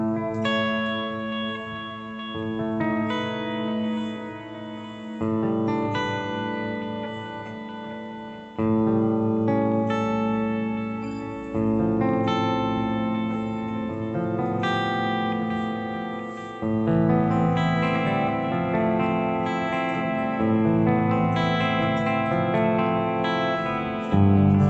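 Electric guitar played through a HeadRush pedalboard with dynamic delay and Eleven Reverb, giving sustained distorted chords and arpeggiated notes with lush echoing tails, loud and without talking.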